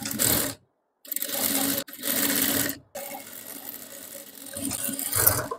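A sewing machine stitches the hem of a machine-embroidered blouse for a half-saree set, running in close, whirring bursts broken by brief pauses, with a final short run near the end.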